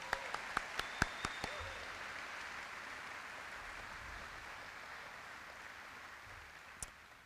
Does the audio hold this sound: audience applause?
yes